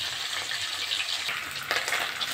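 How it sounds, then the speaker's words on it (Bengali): Fish oil heating in a hot pan, a steady close sizzle and crackle that carries through without pause, with a slightly brighter spatter near the end. "মাছের তেলটা দিয়ে দিচ্ছি"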